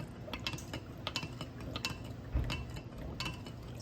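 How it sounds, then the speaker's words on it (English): A small spoon stirs pretzel dough ingredients with butter and water in a bowl, making a run of quick light clinks and scrapes against the side, close and steady, with no talking. "we're gonna continue to mix with our small spoon"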